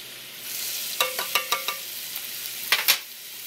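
Chopped onions sizzling in hot olive oil in a pan for a tomato sauce, a steady close frying hiss broken by a few sharp clicks and scrapes of stirring.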